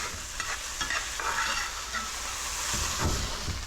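Fish added to fried rice in a hot pan, a steady close sizzle and hiss with scraping stirring noises running throughout.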